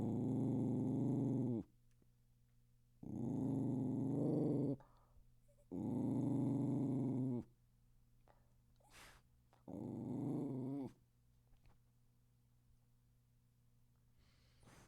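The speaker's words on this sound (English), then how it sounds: "That's why he's growling." A pet named Farley growls in four long, low rumbling bursts of a couple of seconds each, separated by short quiet pauses, close and fairly loud with no talking.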